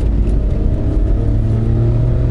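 A car engine drones and revs in a low, steady roar, loud and close, holding its pitch with slight rises throughout.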